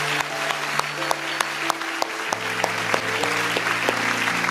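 Church congregation applauding the Lord, a steady wash of clapping from many hands with a sustained organ or keyboard chord underneath and a few sharper claps standing out.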